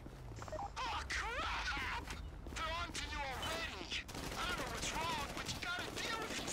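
Gunfire in the video game GTA V during a heist shootout, sharp bursts and volleys crackling over a dense game soundscape, with people talking throughout.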